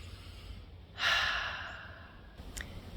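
One deep, slow breath drawn in, close and soft, a breathy rush that swells and fades over about a second, with a faint click afterward in a quiet room.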